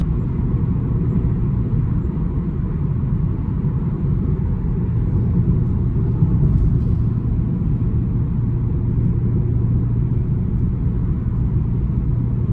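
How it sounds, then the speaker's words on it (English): Manual 2012 BMW 335i convertible cruising on the road, its exhaust a steady low rumble with constant drone and no talking, close and even throughout. "That exhaust is phenomenal."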